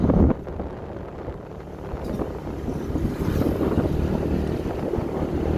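Steady wind buffeting the microphone with a low roar, gusting throughout, with a whooshing rush like movement over water.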